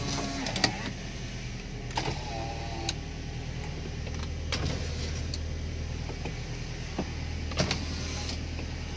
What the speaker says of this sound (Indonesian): Kita coba power windows-nya.